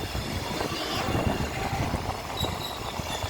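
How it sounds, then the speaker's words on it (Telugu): A train rumbles steadily along the rails, heard from inside, with a continuous low roar and clattering wheels plus faint high squeals. "చూడండి ఎంత పెద్ద శబ్దమో. ట్రైన్లో మేము వెళ్తున్నాము స్పీడ్గా"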